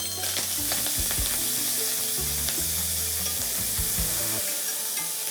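Bacon strips fry until crisp in a pan for a bacon-and-mushroom pasta, giving a loud, steady hiss and crackle with occasional clicks and scrapes from stirring, with no voices.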